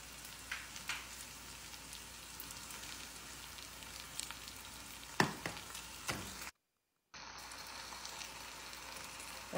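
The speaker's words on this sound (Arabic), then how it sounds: "الحين أضيف الدجاج مقطعته أرباع ونقلبه شوية مع البصل" Quartered chicken pieces fry and get stirred with softened onions for Madinah-style chicken kabli, giving a steady close sizzle with scattered scraping clicks and one sharp knock, briefly cut out near the end.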